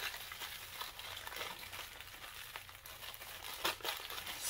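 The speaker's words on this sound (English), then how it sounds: "Get the bag, rip it open." Plastic packaging crinkles and tears as a bag is ripped open by hand, a close, steady rustle with a few sharper tearing bursts and no talk.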